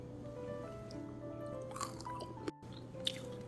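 Quiet chewing close by of crispy stir-fried anchovies with walnuts, soft crunchy and squishy bites over a steady background hum.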